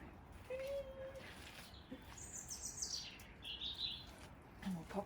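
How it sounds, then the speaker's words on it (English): Wild birds chirping at a snowy garden feeder, scattered short tweets and calls at moderate distance over steady outdoor noise, with a person speaking nearby. "Birds are going crazy, you know, here."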